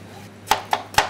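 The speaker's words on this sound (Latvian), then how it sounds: "Tātad viss mums ir jāsagriež ir stienīšos." A knife chopping chicken fillet into strips for fajitas on a cutting board: three crisp, evenly spaced thuds, close and clear, with no voices.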